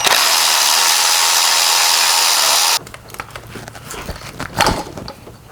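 A power tool whirs steadily for about three seconds while removing a 10 mm ignition coil screw on a Nissan engine, then stops abruptly, leaving quiet clicks and handling noises.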